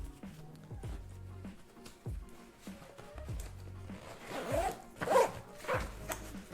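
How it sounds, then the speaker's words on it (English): A Bellroy Weekender bag is zipped shut, its zipper giving a few quick rasping pulls that grow louder toward the end, close and clear with no talk. "Zip that up and we're good to go."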